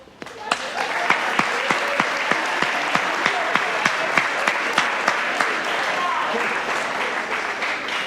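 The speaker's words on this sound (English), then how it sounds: "can you please stand up and give yourself a round of applause?" Students and parents at a school senior presentation applaud together, a steady burst of clapping with sharp individual claps standing out throughout.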